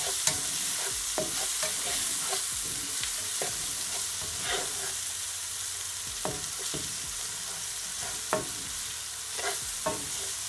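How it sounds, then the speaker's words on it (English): Seasoned ground beef for tacos sizzles steadily in a pan while a utensil stirs it, producing irregular scraping knocks over a constant hiss, close by. "then I'm gonna add at least 1 teaspoon of my seasoning. Give it a stir."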